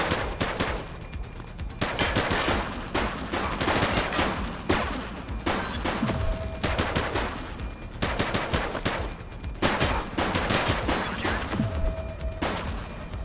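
Police gunfight in The Precinct video game: loud, rapid bursts of automatic gunfire with short pauses between volleys, repeated throughout and close to the listener, with no talking.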